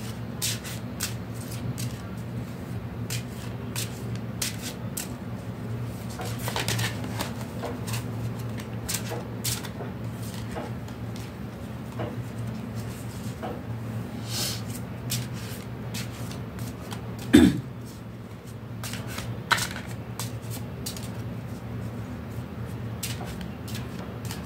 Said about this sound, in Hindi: after shuffling my cards, I'll be picking up 3 cards